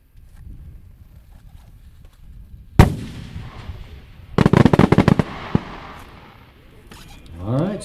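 At an outdoor fireworks display, a 10-inch shell-of-shells firework bursts with a sharp boom, followed by a rapid cluster of sharp secondary reports. Spectators' voices murmur underneath throughout.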